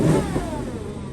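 A Porsche engine gives a short, loud rev up close, one brief throttle blip with no talk over it.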